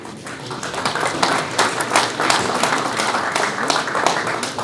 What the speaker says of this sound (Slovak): poprosím ešte raz jeden potlesk